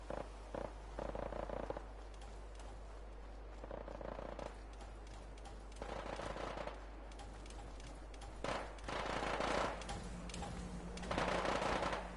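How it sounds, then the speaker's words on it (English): Bursts of automatic machine gun fire in Fallout 4: Far Harbor, coming in several separate rattling volleys with quieter gaps between them, the last ones loudest. "Machine gun fire."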